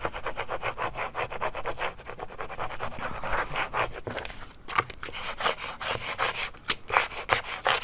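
Rapid, rhythmic rubbing strokes of a squeegee pressing vinyl onto a charger plate, a steady scraping back-and-forth close up and moderately quiet, with no speech.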